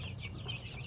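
Chickens clucking in a backyard flock, a faint, brief burst of soft clucks over low background noise.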